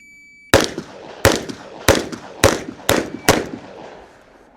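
Six sharp revolver gunshots fired outdoors in a forest, each a loud crack followed by a short decaying echo, spaced roughly evenly about half a second to a second apart.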